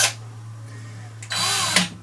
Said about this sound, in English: setting my portable drill onto maximum speed, connecting it to the shaft